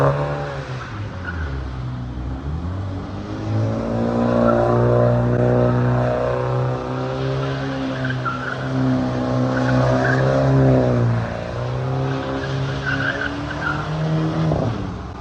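A BMW X2 M35i with all-wheel drive and new tires doing donuts, engine revving with wavering pitch under a long sustained tire squeal and skid, loud and fairly close, no talking.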